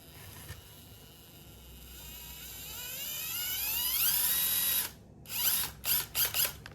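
The small electric motor of an LDRC LD18499 RC crawler whines and rises in pitch with a gear-driven buzz, then cuts off and revs in several short bursts.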